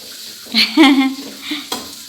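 Beef dry fry gets stirred in a hot pan, with a loud, close sizzle and frying hiss punctuated by a few scraping stirs and clinks of utensil against the pan.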